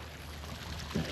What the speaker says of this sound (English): Got a good flow of water coming out.